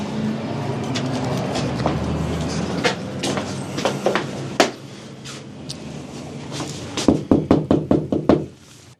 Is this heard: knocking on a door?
yes